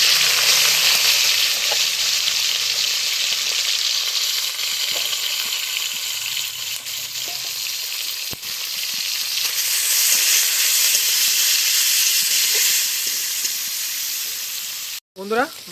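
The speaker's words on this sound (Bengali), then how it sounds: "এবার সেই তেলেই চিকেনগুলো ভেজে নেব।" Chicken pieces frying in hot oil in a pan, a loud, steady sizzle and crackle that runs throughout, with occasional stirring clatter and a brief utensil knock near the end.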